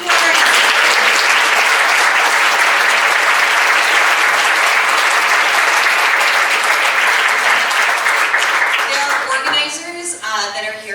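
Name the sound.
round of applause from audience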